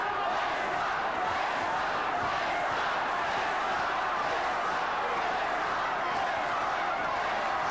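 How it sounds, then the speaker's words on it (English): A boxing arena crowd roars and chants a fighter's name in a steady, sustained wall of voices, loud and continuous throughout. "There's the chant of Leicester. Leicester from the crowd."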